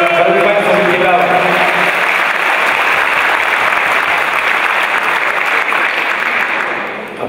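A crowd at a presentation of ROW Rybnik speedway riders gives the riders loud, sustained applause with a dense clatter of clapping that fades slightly at the end, and a voice is heard briefly at the start.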